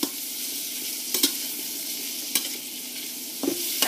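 Crayfish tossed in a pan with garlic butter and oil give a steady sizzle, with a few sharp clinks and scrapes from stirring breaking through near the start, middle and end.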